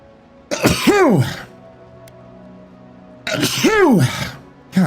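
Two loud, close vocal bursts a few seconds apart, each a forceful nasal-throaty explosion like a sneeze or throat-clearing, with a quieter stretch between them.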